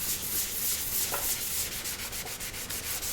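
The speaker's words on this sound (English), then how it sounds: "I just wanted to see what this blue looked like if I sanded it" Steady abrasive rubbing of sandpaper over a blue resin art piece, continuous and close, with a few faint clicks mixed in and no talking.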